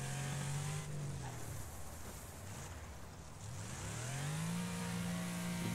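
A race car engine in the Wreckfest video game, revving high, dropping in pitch as it brakes and then climbing again as it accelerates, with steady road and tyre noise underneath.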